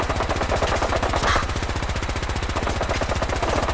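Rapid automatic gunfire from a gun in the video game Fallout 4, a fast, steady, loud stream of shots that runs without a break for the whole stretch.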